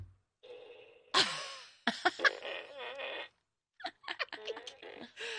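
A fart gun toy lets out a series of buzzy, sputtering fart noises in uneven bursts, a longer wet blast followed by shorter squeaky pops after a brief pause, close and fairly loud.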